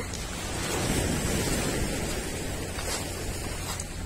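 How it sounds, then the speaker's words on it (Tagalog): Ocean surf rolls in as a steady, broad roar of breaking waves, mixed with gusty wind buffeting the microphone, and no voices. "lumalakas na yung alon"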